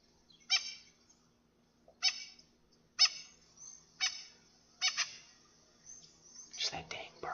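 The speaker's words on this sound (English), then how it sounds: "Just that dang bird." Bird honks in the survival video game Weekend Survival. Five or six short nasal calls are spaced about a second apart, fairly close, and end in a scuffling noise.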